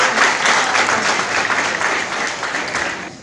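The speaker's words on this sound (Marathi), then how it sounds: "मी तुमचं सर्वांचं टाळ्या वाजवून सर्वांनी अभिनंदन" A crowd gives dense, steady applause at the opening of a state-level netball championship in Chandrapur, welcoming the players. The clapping fills the space throughout and fades slightly toward the end.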